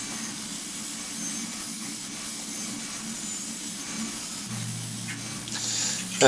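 A belt grinder profiling a custom knife blade in a knifemaker's workshop, giving a steady, continuous abrasive grinding hiss that stays even throughout and swells slightly near the end.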